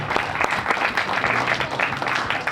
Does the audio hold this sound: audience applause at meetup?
yes